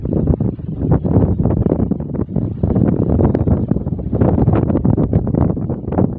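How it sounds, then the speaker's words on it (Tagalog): Steady, fairly loud wind buffeting the microphone outdoors on the Subic Bay boardwalk by the sea, a continuous roar with gusty surges and no voices. "katamtaman lang yung hangin"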